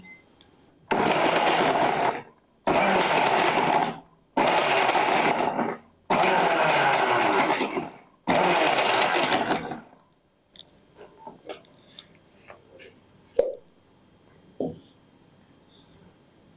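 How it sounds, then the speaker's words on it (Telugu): A mixer grinder whirs loudly in five short bursts as it grinds green chilli chutney with tamarind and curry leaves. Each burst stops abruptly and is followed by a pause. Scattered clicks and light knocks of the jar follow. "ఇప్పుడు దీన్ని మనము మిక్సీ పట్టుకుందాం"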